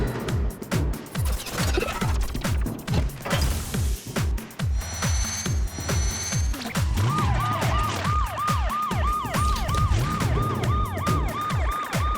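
A loud police siren wails in repeated rising-and-falling sweeps, joined later by a higher, faster warbling tone, continuous and close.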